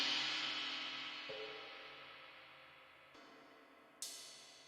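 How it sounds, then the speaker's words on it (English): Cymbal loop from a sample pack, a washy metallic decay that fades over seconds and is restruck partway through, then a bright sharp hit near the end, alone and fairly quiet. "I found this cool cymbal loop in one of my one-shot kits or sample packs"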